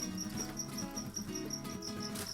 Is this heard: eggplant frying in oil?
no